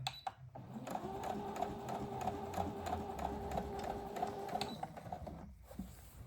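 A sewing machine stitches slowly around a curve while two layers of fabric are held together for a reversible garment, giving a steady, close, continuous whirring hum with a faint rhythmic patter and no talk.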